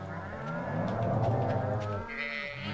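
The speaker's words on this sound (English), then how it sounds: "These cows." Cows mooing on a farm in the video game Stardew Valley, with lowing calls layered over sustained tonal game sounds, steady and fairly loud throughout.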